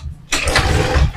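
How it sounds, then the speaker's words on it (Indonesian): A Honda Beat FI fuel-injected scooter engine cranks after a brief quiet moment, then catches and settles into a steady close idle that runs to the end. "Bila motor ini dihidupkan"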